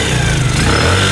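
A nearby motorcycle engine revs loudly and roughly for about a second, a continuous close growl with no talk over it.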